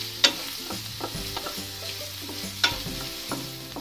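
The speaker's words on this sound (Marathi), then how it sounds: "कांदा लालसर होईपर्यंत आपण भाजून घेणार आहोत." Chopped onion frying in oil in a kadai, heard as a low continuous sizzle with a few sharp spatula scrapes and taps against the pan, close and fairly quiet, no talking.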